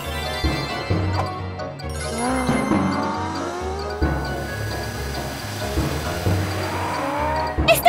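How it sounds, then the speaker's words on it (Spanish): A cartoon race car speeds along with tires squealing, its engine droning and pitch sweeping up and down in bursts, loud and near, with brief skids and a little speech. "¡Mila, transfórmate en un coche de carreras!"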